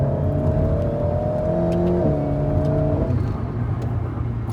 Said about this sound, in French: Là, j'ai retrouvé mon mode sport, il y a des déflagrations, on entend le moteur juste derrière.